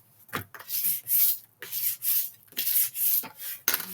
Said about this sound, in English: Just burnish that tape down